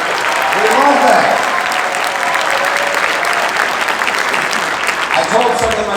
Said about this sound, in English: Let's give a big round of applause for our police.